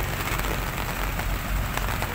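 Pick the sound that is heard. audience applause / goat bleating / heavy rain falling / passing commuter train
heavy rain falling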